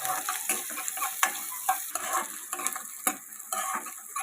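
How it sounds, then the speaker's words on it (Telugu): Chopped onions frying in a pan until golden brown, a bright continuous sizzle broken by repeated scraping and stirring knocks of a spoon against the pan, loud and close with no talking. "ఈ గోల్డెన్ బ్రౌన్ వచ్చేంత వరకు కూడా వీటిని బాగా వేయించుకోవాలి"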